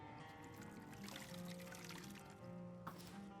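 Water poured for a refill in Skyrim, a faint continuous liquid pour with a gurgling, rising tone, steady throughout and ending with a small clink.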